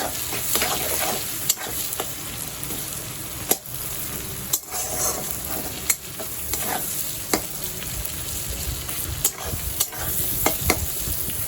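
Chopped onions frying in a pan for butter chicken, a continuous close sizzle with regular sharp scrapes and clacks of a spatula stirring them, no talking.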